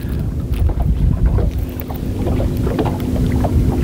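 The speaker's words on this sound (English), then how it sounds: "Wind's starting to pick up a little bit." Wind gusting over a lake during crappie fishing from a boat, a loud steady low rumble of wind buffeting the microphone with faint splashy knocks against the hull, no talk.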